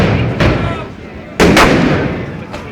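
Firework bangers going off outdoors on bonfire night among a crowd, three sharp loud explosive cracks spaced across a couple of seconds, with crowd noise in the background.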